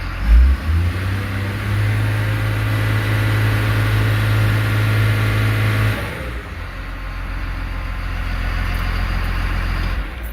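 A Cat IT28G wheel loader engine runs at full throttle against its brakes, giving a loud, steady, deep drone for about six seconds before it drops to a lower, rougher rumble.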